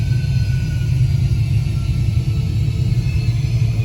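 Airliner engines rumble low and steady in Microsoft Flight Simulator 2020 as the throttles come back, a constant loud drone with no talking.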